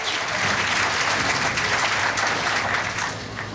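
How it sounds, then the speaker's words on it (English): A bowling alley crowd at a 1994 professional tournament applauds a strike, a broad, sustained roar of clapping that fills the hall evenly and tapers slightly at the end. "Walter Ray didn't bother to look, but he could hear the crowd response"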